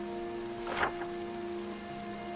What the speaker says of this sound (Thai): รู้สึกฝนเริ่มตกแรงขึ้นเรื่อยๆ นะ